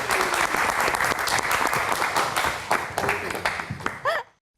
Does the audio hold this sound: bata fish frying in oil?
no